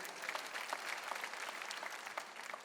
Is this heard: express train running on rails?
no